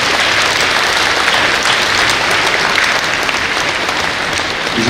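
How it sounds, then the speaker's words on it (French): Loud, dense applause from a large seated audience for a municipal councillor, continuous and steady throughout, with no voice over it. "Je voudrais que vous l'applaudissiez."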